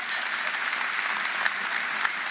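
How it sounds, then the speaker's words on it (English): Audience at the 2024 Nation Ford High School graduation ceremony applauds the graduating class: a dense, steady wash of many hands clapping throughout, loud and even, with no voices over it. "They're deserving of all the applause that we can give them."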